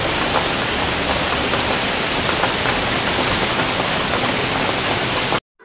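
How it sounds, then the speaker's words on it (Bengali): Steady rain falls in a dense, even rushing hiss that stays loud and close for over five seconds, then cuts off abruptly near the end. "আর দেখুন কি বৃষ্টি।"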